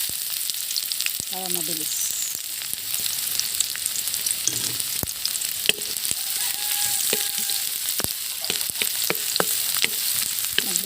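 Garlic and onion sauté in a pan ahead of shrimp and cabbage, a steady dense sizzle with scrapes and taps of stirring throughout, and a brief spoken phrase near the start.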